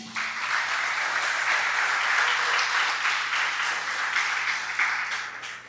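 Steady applause from a church congregation during a sermon, a dense wash of clapping holding at an even level for several seconds before easing off.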